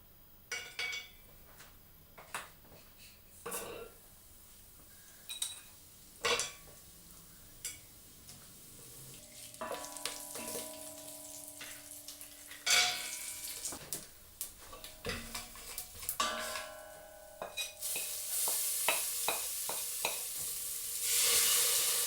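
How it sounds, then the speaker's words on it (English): Whole spices sizzle and crackle in hot oil in a home kitchen pan, with scattered bursts and pops that build toward a steadier fizzing hiss near the end, alongside occasional stirring clatter. "I've heated the oil and I'm going to add the spices in now, the whole ones first, so that they can kind of toast a little bit."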